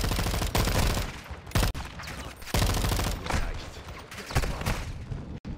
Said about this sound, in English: Are they shooting from different areas?